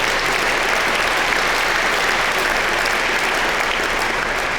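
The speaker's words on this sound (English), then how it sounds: "Let's give them a round of applause." Steady, dense applause from an audience at the 2019 Deming Cup award event fills the whole stretch at an even, loud level, with no break and no voices over it.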